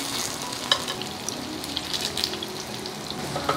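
Tofu asparagus rolls brushed with barbecue sauce pan-frying in a skillet, a steady soft sizzle with small crackles and pops as they are turned over.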